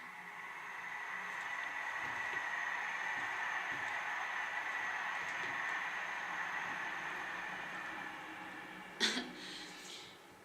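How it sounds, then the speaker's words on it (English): A train passing outside a home, heard as a steady, muffled rumble and hiss that holds for several seconds, with a short sharp cough-like sound near the end. "There's another train passing by."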